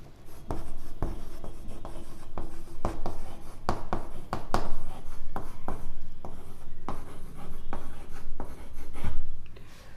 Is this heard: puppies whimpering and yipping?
no